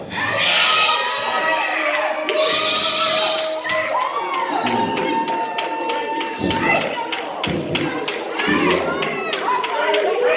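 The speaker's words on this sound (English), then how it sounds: "The over 50 crowd got a different kind of shout." Church congregation members over 50 shouting and cheering together as a crowd during a morning service, a loud sustained mix of whoops, calls and scattered claps with no pause.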